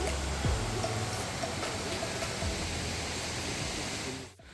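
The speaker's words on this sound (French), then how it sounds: "On a les petites cascades là." Small mountain waterfalls along a hiking trail give a steady broad rushing roar, constant and fairly close, with faint low bumps over it.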